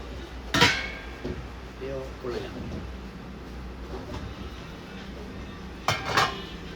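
A steel stock pot with its lid and two handles, plus a large steel basin, being handled, giving a few sharp metallic clanks near the start and end with softer knocks between, under low background talk.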